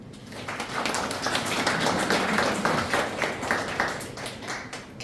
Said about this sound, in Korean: 박수 한번 주요